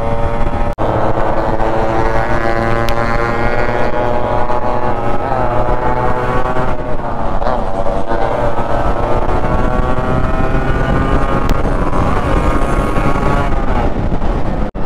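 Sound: Yamaha RX motorcycles riding in a group

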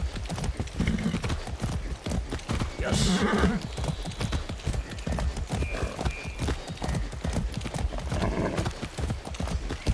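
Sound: horse galloping in the video game Far Cry 6

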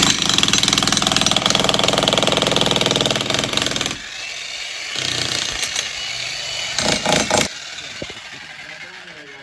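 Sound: John Deere tractor engine running

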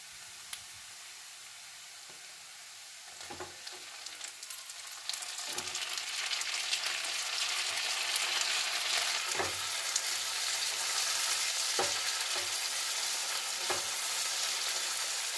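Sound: onions frying in a pan

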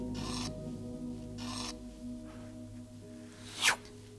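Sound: scraping thick textured paint

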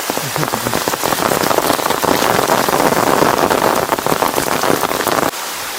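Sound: heavy rain falling

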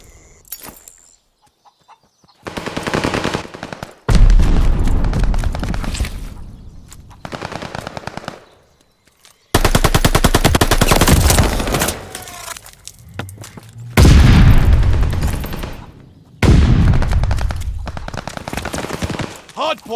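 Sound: gunfire at the hardpoint in video game Call of Duty Vanguard

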